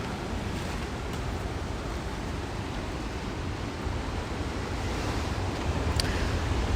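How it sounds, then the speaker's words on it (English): Ocean surf at Avoca Beach in the early morning, a continuous loud wash of breaking waves with some wind, close and steady throughout with no voices. "let's get down looking at the waves"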